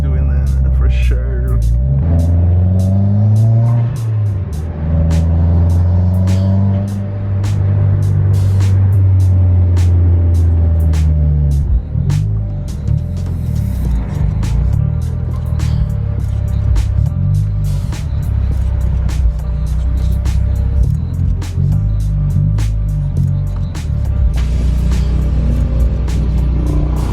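A Subaru BRZ engine rumbles loud and close with a deep, uneven burble, revving up and settling back while it idles, with a steady throaty drone underneath.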